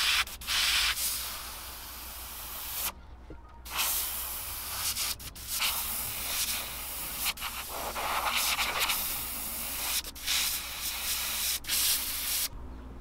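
A handmade wooden jerkbait lure is sanded smooth by hand, giving close, steady rasping strokes with a few brief pauses between passes.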